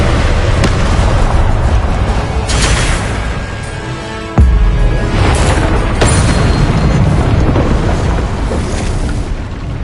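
Confringo explosive spell blasts from Hogwarts Legacy go off in heavy, booming bursts, with several loud explosions rumbling and echoing. One sharp, powerful blast lands near the middle.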